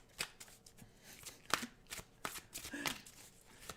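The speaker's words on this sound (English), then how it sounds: "So we're gonna pull a couple tarot cards for Jennifer." A deck of tarot cards is shuffled by hand, heard close and fairly quiet as a run of soft, irregular riffling and flicking bursts with no talking.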